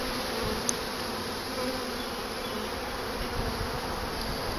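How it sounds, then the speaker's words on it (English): A honeybee swarm buzzes steadily and densely around a swarm trap up close, a continuous loud drone of many wings with no talking. "So they're swarming all around my head right now. They're flying all around me."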